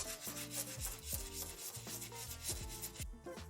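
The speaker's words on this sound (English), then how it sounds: "apply it to the midsole and just scrub in gentle circular motions" A brush scrubs a sneaker midsole with bleach cleaning solution in gentle circular motions, giving rhythmic, close, moderately loud rubbing strokes with no speech.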